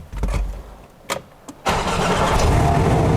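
A Porsche engine cranks with a few short bursts, then catches and settles into a loud, steady rumbling idle close by.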